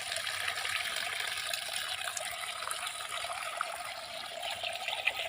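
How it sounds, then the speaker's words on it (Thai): Water splashes and trickles steadily as someone washes their face, a continuous watery wash with small bursts, close and fairly quiet with no talking. "ล้างหน้าออก"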